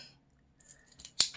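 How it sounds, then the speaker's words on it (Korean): Scissors snipping through colored origami paper, a few soft crisp cuts building to one sharp, close snip at the end, with no talk. "가위로 이 부분을 그냥 동그랗게 자릅니다"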